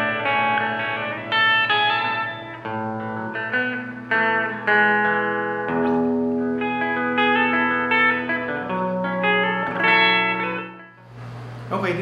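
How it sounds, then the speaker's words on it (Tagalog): Clean guitar through a Kustom KG212FX amp with reverb and chorus added, shimmering chords and melodic notes played continuously and loud, ending in a brief quieter moment. "this time, naka-clean tayo, naka-reverb tayo, nag-add naman ako ng chorus."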